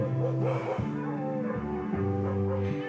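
Several dogs bark and yip in a pitched, tune-like sequence of held notes, broadcast in a holiday-season radio news report, steady and fairly loud with no talking over them.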